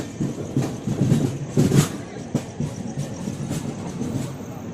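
A train pulling into Bhopal railway station on a Karimnagar to Bhopal journey, its carriages giving a steady rumble with rhythmic clacks and a brief squeal, heard from on board at moderate loudness.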